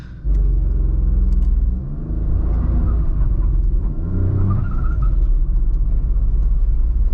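A 1.0 litre car engine labours loudly and steadily up the steepest part of a hill, a constant low rumble with slight rises in pitch as it strains, close and alone without talk.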